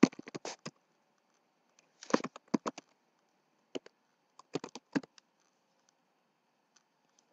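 Quiet clicks of typing on a computer keyboard in a Windows 8 desktop setting, arriving in short irregular bursts of keystrokes separated by pauses, close and soft with no talking.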